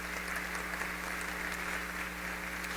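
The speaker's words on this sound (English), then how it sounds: "Round of applause." An audience gives a round of applause at a celebrity speaker event. The clapping is steady and rather faint and distant, with a low electrical hum running beneath it.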